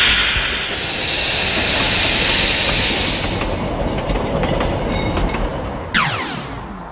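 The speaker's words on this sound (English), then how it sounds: "there's plenty of fun to be had just watching the trains go round" A model railway train runs round the track with a steady rumbling clatter and hiss that swells and fades, followed by a brief squeal near the end; no talk.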